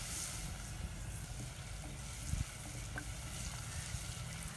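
Dried manathakkali (nightshade) seeds, along with fenugreek and curry leaves, fry in sesame oil in a village kitchen, giving a steady close sizzle with occasional stirring clinks and scrapes.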